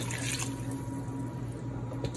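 Vegetable cooking stock streams into a measuring cup in a steady, moderately quiet pour with a faint liquid gurgle, lasting just over two seconds, no speech.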